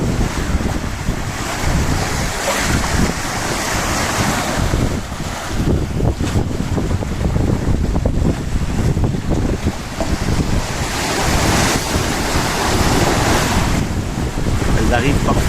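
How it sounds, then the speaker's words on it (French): Ocean swell breaks against the bow of a sailboat on an open-sea passage from the Canaries to Senegal, loud surf washing and hissing continuously under heavy wind buffeting the microphone. "les vagues arrivent à la proue."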